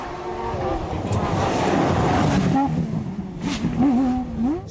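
Rally cars on a stage of the 2014 Rallye du Rouergue, including a Porsche 997 GT3, roar past with rising and falling engine revs, loud and continuous, with a voice talking over the engines.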